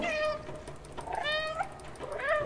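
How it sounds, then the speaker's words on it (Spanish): A cat meows repeatedly in the video game Stray, three distinct rising-and-falling calls spread across a couple of seconds, clear and close, with no talking. "tengo que maullar"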